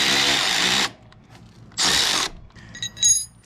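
Power tool drives a bolt on a 250cc X-Pro Titan dirt bike's suspension in two loud whirring bursts, each about a second long, separated by a quiet gap, followed by faint ratcheting clicks.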